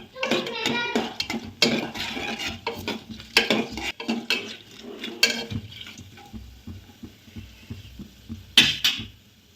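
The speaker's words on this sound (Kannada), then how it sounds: "ಈಗ ಗೋಡಂಬಿ ಹಾಕ್ತೀನಿ" Cashews tossed into a hot pan while cooking jeera rice, giving light stirring, clinks and a soft sizzle with scattered utensil taps at close range.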